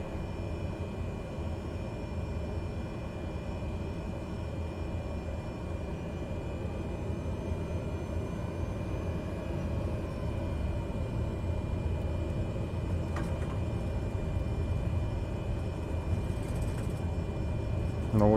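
A Cessna Grand Caravan 208B turboprop taxiing in Microsoft Flight Simulator 2020, giving a continuous low engine drone with a faint high whine, steady and unchanging for nearly twenty seconds, with a couple of brief clicks near the end.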